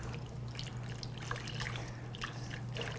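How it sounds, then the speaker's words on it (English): Water being mixed into a broth base in a home kitchen gives a soft, continuous trickling and sloshing of liquid. It stays quiet and close, with a low steady hum underneath. "We're going to give that a little mix"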